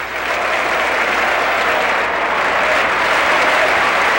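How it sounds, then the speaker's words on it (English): Loud, unbroken clapping from a packed US Congress chamber greets President Corazon Aquino, a dense and steady ovation that rises quickly and stays at full strength throughout. "you can hear the sustained and very enthusiastic applause"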